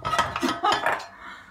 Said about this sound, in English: I love these skillet pans